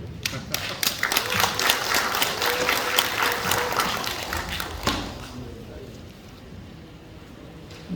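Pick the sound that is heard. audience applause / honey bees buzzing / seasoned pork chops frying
audience applause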